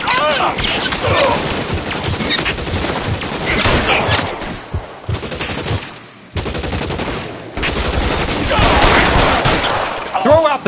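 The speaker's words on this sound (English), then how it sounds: "The guns!" Gunfire effects in a war-themed detective audio drama: loud, sustained volleys of rapid shots and machine-gun bursts, with short pauses and sharp impacts, continuing almost throughout.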